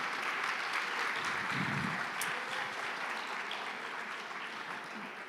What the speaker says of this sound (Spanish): dele un fuerte aplauso al Señor Jesús.